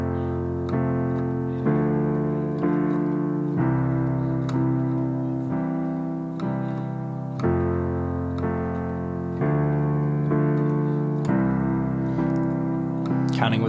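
Piano accompaniment for the verse of a song, right-hand chords struck on every beat in a steady even pulse, each chord clear and close with the bass shifting beneath.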